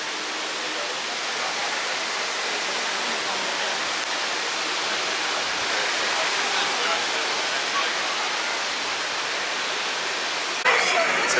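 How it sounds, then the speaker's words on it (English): Water drips and pours steadily from artificial floating mountains at Animal Kingdom theme park, a constant broadband rush like a waterfall that fills the scene at an even level for several seconds. "These floating mountains like to drip."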